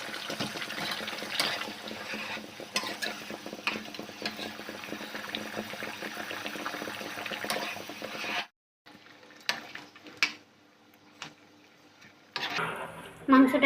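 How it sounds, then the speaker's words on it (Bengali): Hot water poured into a pot of meat set to boil for Afghani kabuli pulao: a dense, steady rushing wash for about eight seconds, then a near-silent gap broken by a few clinks and a brief renewed rush at the end. "এবার এটার মধ্যে আমি সিদ্ধ হওয়ার জন্য গরম জল দিয়ে দেবো।"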